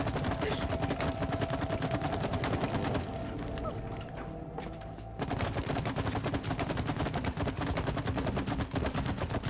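Rapid repeated gunfire in the co-op game It Takes Two, a dense stream of quick shots that pauses briefly in the middle and then resumes just as steadily, close and loud, with no talk over it.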